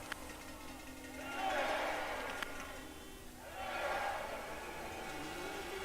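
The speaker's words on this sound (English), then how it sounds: "the crowd definitely cheering to support, to encourage" Spectators in a biathlon arena at the 2024 World Championship women's individual race cheer in two rising and falling swells of distant crowd noise.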